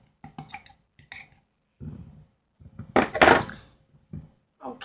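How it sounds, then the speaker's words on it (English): Soap playdough mixture with flour stirred in a bowl: scattered soft thunks, scrapes and light clinks come in short bursts with brief pauses, one louder scraping burst midway. "just scrape some more in there, and just continue the process of stirring"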